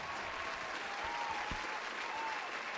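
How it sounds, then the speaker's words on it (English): Steady applause with a dense, even clapping texture sustained throughout, played as a celebratory sound effect, with no voices over it. "this applause is for myself"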